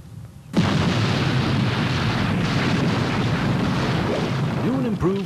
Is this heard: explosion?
yes